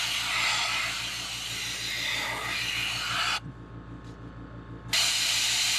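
An airbrush spraying paint onto a crawfish fishing lure, giving a steady close hiss over a low pulsing compressor. The spray stops briefly near the end and then starts again.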